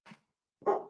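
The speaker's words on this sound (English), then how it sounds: "That's my dog." A pet dog named Charlie gives two short barks indoors, a faint brief yelp followed by a louder, fuller bark close by, with silence in between.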